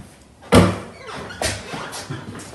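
A school door swings shut with one loud, sharp slam, followed by a softer rattling thump and some faint movement as it settles.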